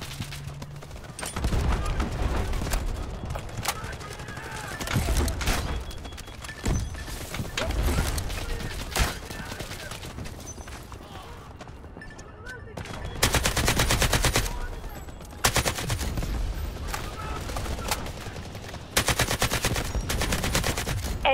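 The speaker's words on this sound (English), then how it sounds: "Artillery ready for barrage." Artillery barrage and gunfire in Delta Force Hawk Ops: repeated loud bursts of shots and heavy blasts come in clusters, some long and sustained, with quieter stretches of rattling fire in between.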